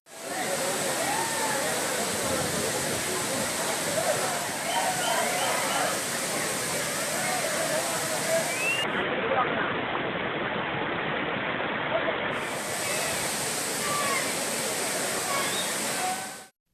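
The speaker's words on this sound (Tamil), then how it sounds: "இதனால் அவர்கள் அருவிகளில் குளித்து மகிழ்கின்றனர்" Kutralam waterfalls pour down as a steady, dense roar of falling water that fills the whole scene without pause. A faint murmur sits underneath it.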